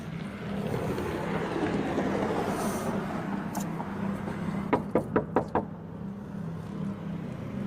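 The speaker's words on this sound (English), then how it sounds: "Javier knocks on the door and rings the bell several times looking for his friend" Several quick, sharp knocks on a house door, a burst of about five raps in fast succession, heard over a low steady background hum.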